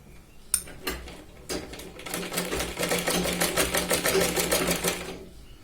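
A sewing machine stitches around the edge of a blouse back neckline. After a couple of short starts, it settles into a fast, steady, close rattling run that stops near the end.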